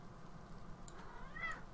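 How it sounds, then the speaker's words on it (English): A house cat meows faintly in the background of a quiet room, one or two short soft calls near the end. "Oh, that's my cat in the background."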